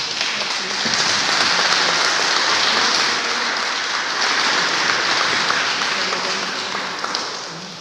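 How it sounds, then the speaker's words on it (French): A church congregation at Sunday mass applauds couples celebrating their wedding anniversaries, a loud steady wash of many hands clapping that fills the room for several seconds before tapering off slightly. "Veuillez les applaudir, s'il vous plaît."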